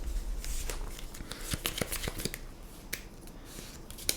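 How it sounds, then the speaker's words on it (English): Cards from a deck are drawn and handled during a Flesh and Blood Blitz match. Close papery snaps and slides come in quick irregular bursts, with no speech. "So draw 4 cards."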